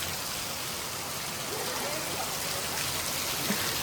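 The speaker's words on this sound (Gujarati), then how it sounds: "તો ફાઇનલી આપણે વરસાદ આવી ગયો છે આજ." Rain falls steadily in a broad, even hiss of drops on surfaces, continuous and fairly loud throughout, with no talking.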